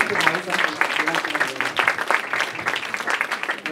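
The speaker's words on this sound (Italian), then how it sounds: "Ancora un applauso." An audience at an award ceremony applauds with dense, steady clapping that fills the room throughout, fairly close and loud, with a voice briefly heard beneath it.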